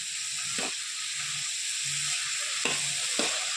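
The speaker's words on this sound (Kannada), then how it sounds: "ಓಕೆ, ಇವೆಲ್ಲ ಫ್ರೈ ಮಾಡ್ತೀನಿ" Capsicum and other vegetables frying in oil for a homemade capsicum curry hiss softly and evenly, broken by three scraping stirs of a spatula nearby.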